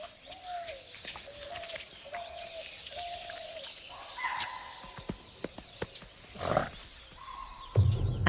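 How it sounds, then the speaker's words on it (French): Wild animals in a Indian jungle give a sequence of repeated sharp alarm calls, moderately distant, followed by rustling, thuds and a louder burst near the end, with no speech. "Soudain, un cri d'alerte les perturbe."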